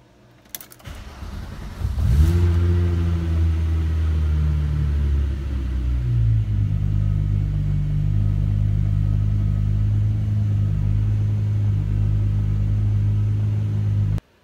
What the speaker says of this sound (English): Give you a little cold start